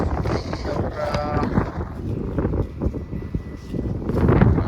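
Grazing cows lowing nearby, a deep moo rising over rustling wind, with people's voices murmuring in the background.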